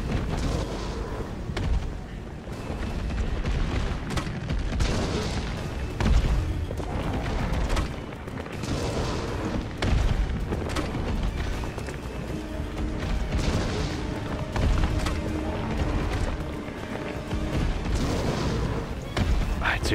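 Mine rounds detonating in the Resident Evil 3 Remake video game, a series of deep booming blasts and heavy thuds rolling over a dense, rumbling background, loud and fairly continuous with repeated sharp impacts.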